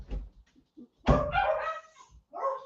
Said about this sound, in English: just let the dog go.